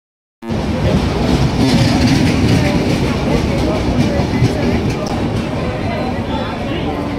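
On a railway platform the Kandari Express rumbles steadily, a dense continuous roar of engine and carriages that starts abruptly and holds loud throughout.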